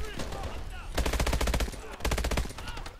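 The Atlas gun firing in Call of Duty Advanced Warfare, two sharp rapid-fire bursts of automatic shots about a second each, loud and close, with quieter game noise between them.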